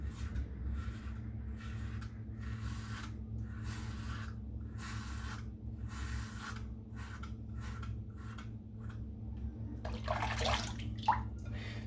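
A razor is rinsed under running water, with a string of splashy bursts and gurgles close by, then a louder rushing flush near the end over a steady low hum.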